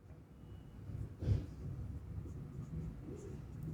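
A pen or marker squeaks and scratches across a board, with one louder stroke, then softer strokes that continue quietly throughout.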